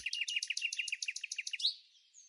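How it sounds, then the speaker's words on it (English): A white-faced whistling duck gives a rapid series of high, whistled calls, about a dozen evenly spaced notes, ending in a rising whistle and then trailing off. "The musical, white-faced whistling duck."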